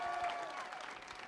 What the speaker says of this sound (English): would you give them a round of applause too, please?